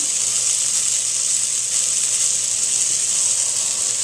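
Salmon fries skin-side down in a hot pan, giving a steady, close, bright sizzle and crackle that holds evenly throughout with no talk.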